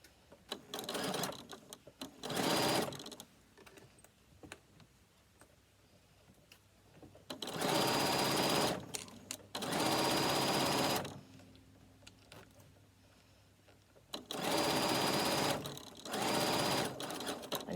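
A sewing machine stitching the side seam of a fabric bag at a zipper opening, running in several long, loud bursts of rapid stitching separated by quiet pauses, with no talking.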